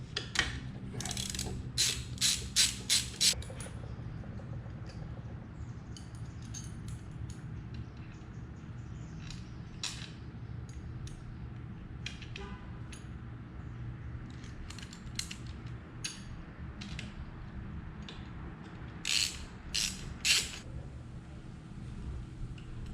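Screws being driven into a 2019 Honda Grom's mid fairing, heard as bursts of quick ratcheting clicks from a hand tool, close but fairly quiet against a low background hum.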